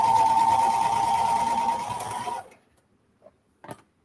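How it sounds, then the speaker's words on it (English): A serger overlock machine stitches swimsuit fabric, running loud and steady with a constant whirring hum for about two and a half seconds before stopping abruptly, followed by near silence and a couple of faint handling clicks. "I'm using the serger, so this is my first step"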